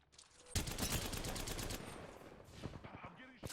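Rapid automatic bursts from a Havoc energy rifle in Apex Legends, a dense rattling stream of shots lasting over a second, followed by quieter game sounds and brief fragments of voice.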